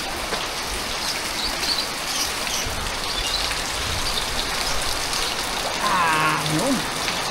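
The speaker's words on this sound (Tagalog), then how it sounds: "Sarap maligo sa ulan." Steady rain pours down in a dense, continuous hiss, with faint voices and a brief splashing movement near the end.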